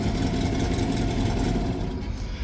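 A mid-1980s Honda 7.5 hp short-shaft four-stroke outboard engine runs steadily nearby with an even, throbbing drone and no voices.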